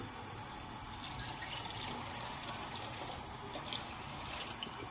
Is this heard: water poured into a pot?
yes